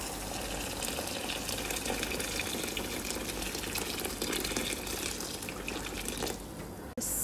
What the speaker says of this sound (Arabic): صب الماي، وهذا الماي الحار.